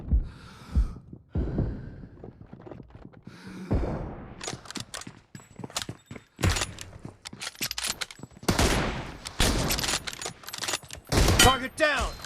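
Gunfire rattles through a PUBG BGMI match in repeated bursts of rapid shots, loud and close, with short pauses between volleys and faint game sounds in the gaps.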